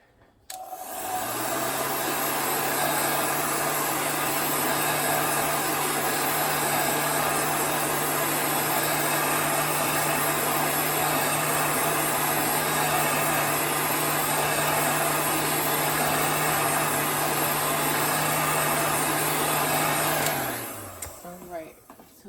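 A hair dryer blows on paint drying on a gingerbread shadow box craft, a loud, steady whooshing drone that runs continuously for about twenty seconds before switching off.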